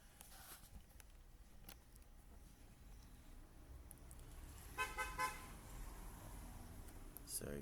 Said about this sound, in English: Sorry about the car honking.